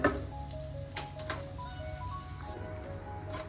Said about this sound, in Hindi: यहाँ पर है ना सब अच्छे से भून रहा है